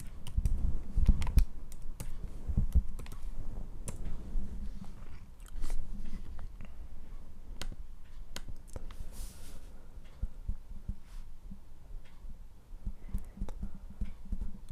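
Fingers tapping a username and password on a computer keyboard for a Windows laptop or desktop PC, a steady run of light clicks with a few sharper, louder key strikes, close by and with no talk.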